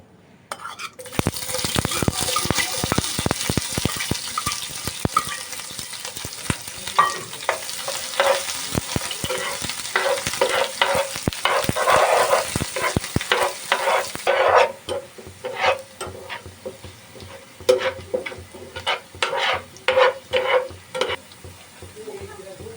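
Onions hit hot oil with whole spices for a chicken gravy, giving a loud broadband sizzle with a steady run of sharp spatula scrapes and clinks against the pan, easing to sparser scraping over a softer fry later on.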